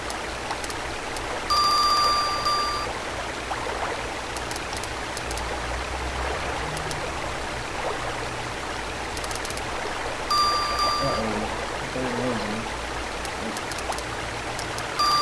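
Rain in the SNES fishing game Bassin's Black Bass makes a steady, even hiss that runs the whole time, with brief electronic game tones now and then.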